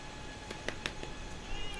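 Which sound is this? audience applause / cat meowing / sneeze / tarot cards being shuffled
cat meowing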